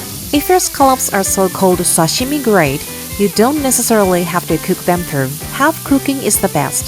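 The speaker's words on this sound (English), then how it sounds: "If your pan is preheated properly, you hear a sizzling sound like this." Sea scallops and squid sear in a properly preheated frying pan for seafood yakisoba, a continuous sizzle running beneath a voice that talks throughout.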